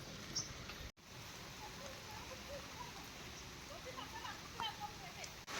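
Rain falls steadily in a soft, faint patter, with scattered drops ticking on surfaces and a brief dropout near the start.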